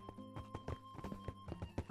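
Horses walk in a fantasy video game. Their hooves give a steady clip-clop of close, distinct hoof thuds over a soft musical drone, and there is no talk.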